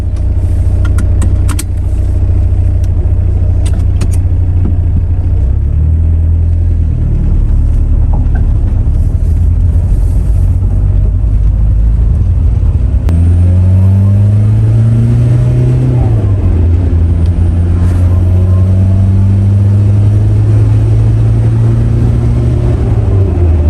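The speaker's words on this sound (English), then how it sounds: "let's move all these cars around and get this car outside" Several cars, among them a Volkswagen Jetta Mk1, are moved out of a garage, engines running throughout with a steady low rumble and rising revs as one pulls away, loud and close.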